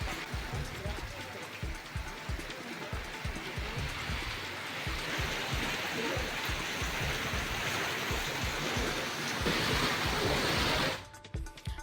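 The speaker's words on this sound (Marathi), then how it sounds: "हिमायतनगरला अवकाळी पावसानं झोडपलं" Heavy unseasonal rain lashing the town of Himayatnagar in a storm, a dense, loud, continuous roar of downpour and running water with rhythmic low thumps, ending abruptly near the end.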